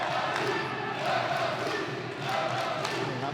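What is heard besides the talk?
foreign fans cheering at Muay Thai boxing match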